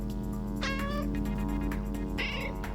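Cartoon cat meows from the game Schrodinger's Cat Burglar, two bright rising calls over a steady, loud music and game-sound bed.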